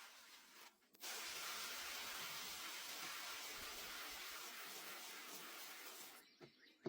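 Spray bottle misting soil over newly sown seeds, giving one long, even, airy hiss of about five seconds, soft and close, with a few small clicks before and after.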